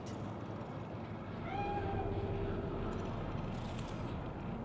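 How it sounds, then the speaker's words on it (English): A cat meows once in Cyberpunk 2077's Night City street, a single clear drawn-out mew rising over a quiet steady hum of city and traffic ambience, moderately near and not masked by talk. "Do you see it? That cat?"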